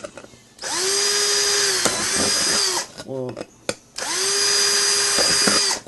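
A power drill whines through two long bursts, boring small holes with a small bit, its pitch rising as it spins up, with a brief spoken word and clicks between runs.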